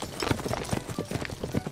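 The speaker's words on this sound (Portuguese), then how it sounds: "E o barulho de galopar, como é?" Horse hooves gallop in a quick, steady clip-clop rhythm, a continuous run of hollow knocks at moderate volume with no talking.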